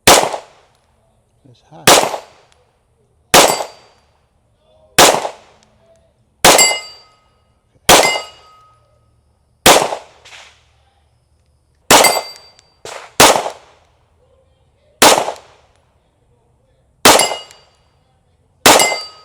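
An Alfa Foxtrot Romulus pistol firing Federal Ordnance 124 grain ammunition, with about fourteen sharp, loud, close shots spaced irregularly around one to one and a half seconds apart, each ringing briefly; a voice speaks once.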